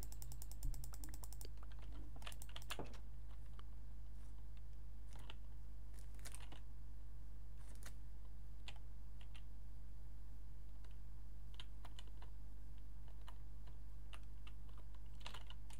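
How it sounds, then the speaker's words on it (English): Fast mouse clicks from someone playing Minecraft, clustered in a quick burst at first and then thinning to scattered single clicks over a constant low hum, with no talking. "I am spam clicking."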